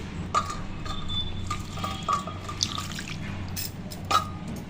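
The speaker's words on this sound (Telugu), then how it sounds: "దీంట్లో ఇప్పుడు కొద్దిగా వాటర్ పోసేసుకోవాలి" Water is poured into a chili and tamarind chutney mixture in a home kitchen, making soft trickling and dripping sounds with a few brief clinks, close and quiet, without talk.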